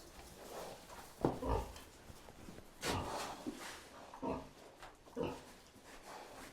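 Pigs grunt and snuffle as they eat feed pellets, with irregular bursts of chomping and oinking nearby, interspersed with quieter rustling.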